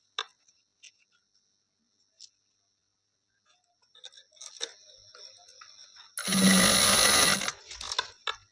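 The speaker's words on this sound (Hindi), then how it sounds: "फुल इलास्टिक आपने ऐसे ही लगानी है, किनारे किनारे पे सिलाई लगाते हुए चलना है।" A sewing machine runs in one loud burst of about a second while elastic is being stitched along the edge of palazzo pants, with scattered faint clicks and handling noises before and after.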